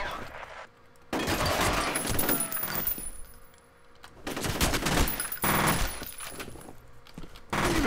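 Gunfire from a firefight in the video game F.E.A.R., with bursts of rapid automatic shots and heavy volleys that come and go over several seconds, loud and close, mixed with other battle noise.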